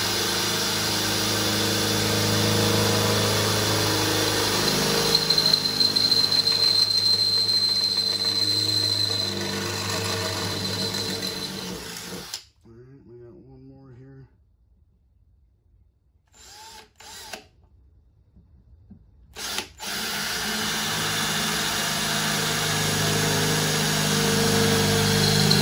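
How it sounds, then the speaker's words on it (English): A power drill with a 5/16 drill bit bores holes during a gas-to-propane and natural gas conversion of a Generac iQ3500 generator. The motor whines steadily in long runs, broken by a near-silent pause before drilling resumes. "Okay, now we've got our holes all drilled and cleaned up."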